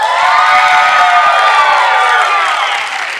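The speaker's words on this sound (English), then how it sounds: "Give me a big shout and applause" Studio audience at a fitness weight-loss show cheering, whooping and clapping in one loud, sustained burst that fades slightly at the end.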